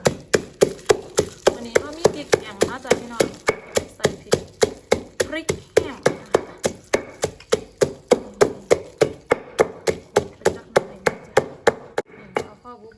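Steady, rapid knife chops through tomatoes on a cutting board, about three strikes per second, close and crisp, with a voice talking over them.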